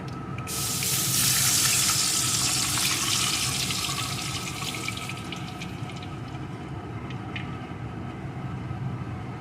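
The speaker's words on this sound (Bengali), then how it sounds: "এখন এর ভিতরে দিয়ে দেবো আমি জল জলটা কিন্তু একটু বেশি পরিমাণেই লাগবে" Water poured from a tap into a cooking pot for a sour green mango curry makes a loud, close, continuous rushing splash that peaks early and then settles into a steady flow.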